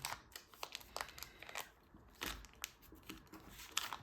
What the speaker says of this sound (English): Just fold these down again.